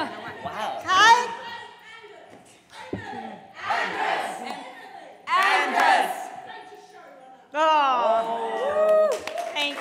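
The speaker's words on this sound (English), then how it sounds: "A cheer for when you come on." A convention audience at EarperConUK 2018 whoops, cheers and laughs in loud bursts as panelists walk on stage. Shouts and scattered claps rise, fall and rise again, and a few voices are heard among them.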